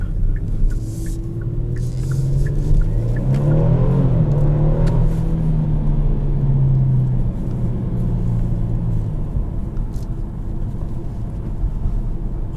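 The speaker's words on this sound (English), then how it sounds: "Actually, I am getting a good amount of burbles here." A loud, steady 2021 Kia Stinger GT1 engine drones close by, swelling midway and easing off, with faint crackling exhaust burbles over the rumble.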